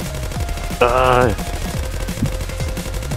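A short, loud burst of rapid automatic gunfire rattles out in the zombie shooter Zombie Uprising, surrounded by game sounds, while someone talks casually throughout.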